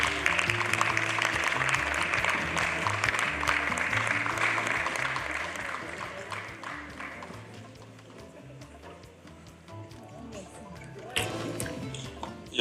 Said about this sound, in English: A round of applause for him, please.